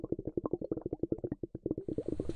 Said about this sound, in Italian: Espira in mille bolle,